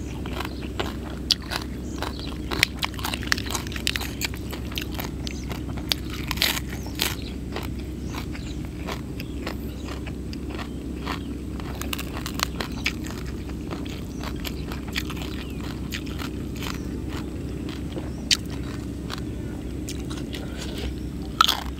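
Crispy roast pork skin bitten and crunched up close, a steady run of small crackly bites and chewing that goes on throughout at moderate level, with no talk.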